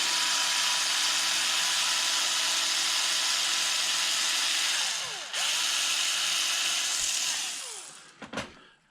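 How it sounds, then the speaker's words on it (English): A power drill whines steadily and loudly at close range while backing out servo screws during an RC truck teardown, then drops in pitch, revs again and stops with a few clicks at the end. "I apologize to anybody who's wearing headphones for this drill"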